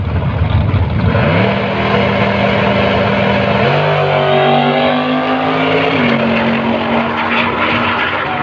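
A Big Barra-powered drag car and a Chevrolet V8 drag car race side by side at a Mildura drag strip, their engines roaring loud and close, with rising pitch shifting through gear changes.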